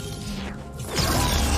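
A film sound effect of a force field being cut: a noisy mechanical crunch and hum swells into a louder crashing, crackling burst.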